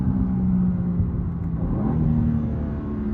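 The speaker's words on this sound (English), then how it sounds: "quick downshifts" A BMW M2 G87 engine rumbles and revs steadily from inside the cabin, with a continuous low drone and slight pitch shifts suggesting quick gear changes, with no talk.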